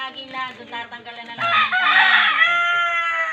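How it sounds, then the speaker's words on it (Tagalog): A jungle fowl crows loudly and close by, a drawn-out, rooster-like call that rises in strength and holds for a couple of seconds. "Yun, ibon. Yan. Yan ang ibon gubat."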